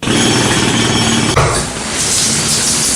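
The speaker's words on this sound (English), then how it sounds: "wait, is that a jackhammer?" Jackhammer pounding continuously and loudly at close range, a dense rattling roar with a brief shift in texture about halfway through.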